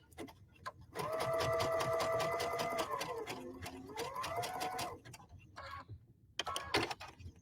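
A sewing machine stitches a hexagon felt candle mat in steady, close running bursts, with a longer run followed by shorter stops and starts near the end.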